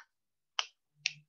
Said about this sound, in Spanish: con el chasquido que estoy haciendo